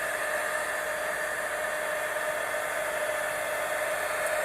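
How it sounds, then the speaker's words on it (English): A heat gun blows a steady, loud, even hiss of air over a beginner's acrylic pour painting, continuous throughout with no talk. "So this heat gun"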